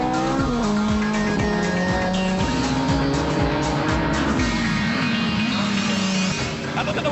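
GT Cup race cars run side by side at Donington National during a sprint race, their engines roaring loudly and continuously with shifting pitch as they head into a braking zone, tires squealing.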